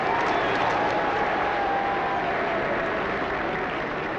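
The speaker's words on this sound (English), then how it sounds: "When they return to the grid, the crowd goes wild." A motor-racing crowd roars and claps as Formula One cars return to the grid, a dense, steady wash of cheering and applause that holds at a constant loud level from start to finish.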